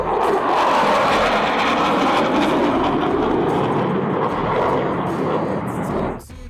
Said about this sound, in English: Might be a military trainer.